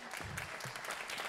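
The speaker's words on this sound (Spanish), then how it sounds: "Aplaudo a la gente que haya venido sola hoy a la función." Brief, faint patter of audience applause at a stand-up comedy show, a short spread of scattered clapping heard from a distance.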